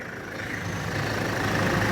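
A Scorpio SUV's engine idles with a steady low rumble, continuous, even and unbroken, with no voices over it.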